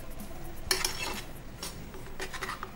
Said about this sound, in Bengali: এবারে এটা ভালো করে নেড়ে দিচ্ছি, দেখুন এটা এখন ফুটতে শুরু করে দিয়েছে